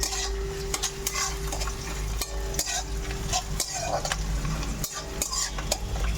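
Spices and ingredients for mutton curry sizzle in a pan while a metal spoon stirs and scrapes, with repeated clinks and scrapes over a steady frying hiss.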